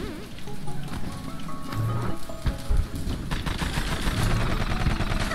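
Gunfire strikes the player character in the video game Rusted Moss, sharp hits scattered through a dense, busy wash of in-game noise and music, with no talking.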